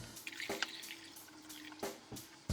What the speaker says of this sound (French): On vient ensuite rajouter l'eau jusqu'à bien recouvrir toutes les pièces.